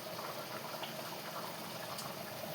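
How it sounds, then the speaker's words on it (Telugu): Dal (lentils) boiling in a pot, a steady, close bubbling simmer with continuous small pops and gurgles, no voices. "పప్పు ఉడికిపోయింది."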